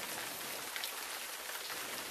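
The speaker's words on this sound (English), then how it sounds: "when you are in a canyon and it begins to rain" Steady, even rain falls in a canyon, a dense hiss of drops spattering on surfaces with no pauses and no voices.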